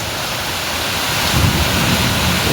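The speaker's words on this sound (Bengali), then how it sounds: "বৃষ্টির চেহারাটা দেখাই" Dense, roaring downpour of heavy morning rain heard from a hotel balcony near Chitrakote Falls, broadband and unbroken, growing slightly louder with a low rumble in the second half.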